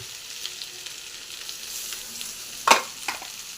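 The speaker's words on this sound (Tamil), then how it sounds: "புளி இது எல்லாத்தையும் போட்டு நல்லா கொஞ்சம் ஃப்ரை பண்ணிங்க" Grated coconut, ginger paste, tamarind and curry leaves fry in a pan for a pirandai (adamant creeper) chutney, producing a steady, close sizzle with one sharp clatter near the end.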